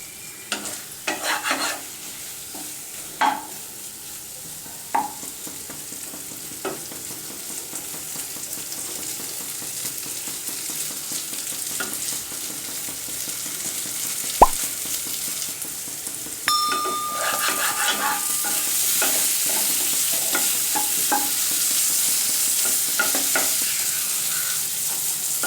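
Potatoes frying in a little oil with masala and chilli powder for a crispy potato fry, a steady close sizzle with scattered stirring scrapes and clinks, the frying growing louder and brighter in the second half.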